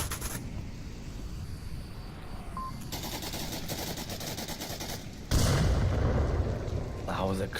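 A grenade explodes during a match of the VR shooter Onward, a sudden loud blast with a broad rumbling tail arriving late, after stretches of quieter gunfire crackle and background noise.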